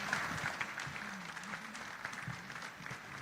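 Audience applause for the candidates at a chamber of commerce meet-the-candidates night in Lago Vista, a soft, fairly distant patter of many hands clapping that runs steadily for a few seconds and fades slightly at the end.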